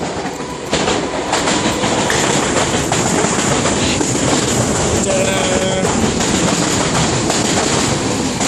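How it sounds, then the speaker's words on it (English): A train rumbles past close by, loud and steady, with clattering wheels and a brief metallic squeal partway through. "Train."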